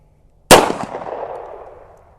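A single sharp, loud report from a Swiss P49 Sig P210 pistol, close by, with a quick attack and about a second and a half of decaying ring and echo after it.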